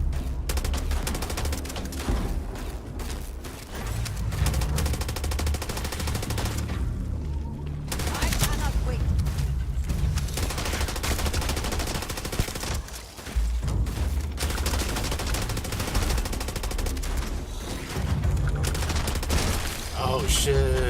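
Dense, loud gunfire and rapid automatic bursts from a Starfield firefight, booming almost nonstop with only brief lulls across the clip.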